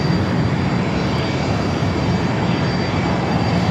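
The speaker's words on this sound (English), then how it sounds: "That is the American 777" An American Airlines Boeing 777-300ER roars past at LAX, a loud, steady wall of jet engine noise that stays constant throughout with no voices.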